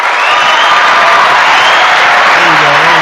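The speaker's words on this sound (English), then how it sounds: "play the applause button for yourself" Canned applause from a sound effect button, a dense burst of clapping and crowd cheering that plays loud and continuous for about three seconds.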